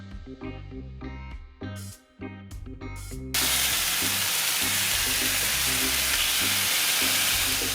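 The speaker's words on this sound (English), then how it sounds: "We're gonna give this a sear." Jerk chicken pieces hit a hot stovetop pan and erupt into a loud, steady sizzle that continues evenly, after a few seconds of kitchen clatter beforehand.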